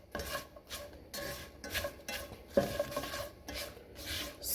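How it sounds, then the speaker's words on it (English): Mushrooms and onion stirred in a pot for shrimp and mushroom rice, with repeated soft scraping and rasping strokes in an uneven rhythm, close and moderately loud, with no talk. "we're going to give them a quick stir"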